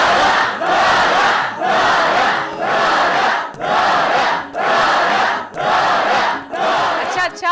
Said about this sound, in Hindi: बस कर दो तालियां।